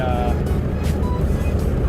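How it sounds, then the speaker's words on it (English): A Saab Viggen engine breathes through a 3-inch exhaust with a single rear muffler, giving a continuous low, even drone close by with no clear revving. "A vibrant 3-inch exhaust with mufflers."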